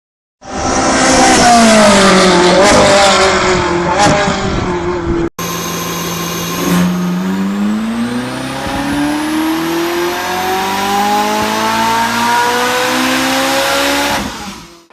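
A Ferrari 4.5-liter naturally aspirated V8 revs hard and loud, its pitch sweeping up and down through sharp shifts, then after a brief cut it climbs in one long, steady rising wail, with no voices present.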